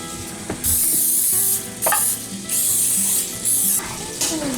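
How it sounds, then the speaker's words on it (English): Cooking spray hisses into a 9x13 casserole dish in a home kitchen, coming as four or five loud, close bursts of one second or less, separated by short pauses and light clatter. "I'm just gonna spray this 9x13 casserole dish"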